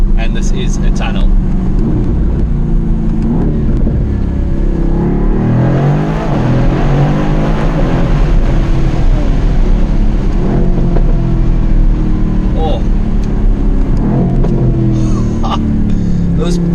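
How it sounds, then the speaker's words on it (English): A Mercedes-AMG GT R Pro with a V8 engine revs and accelerates inside a tunnel, its loud, sustained roar rising and falling in pitch as it echoes off the walls, with someone talking over it. "It's got a stonking V8, and this is a tunnel."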